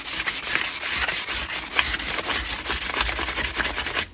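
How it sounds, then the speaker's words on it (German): Steady, rhythmic hand sanding of a beaver-chewed piece of wood, the abrasive paper rasping back and forth in quick close strokes for several seconds with no talk. "Und schleifen und schleifen und schleifen."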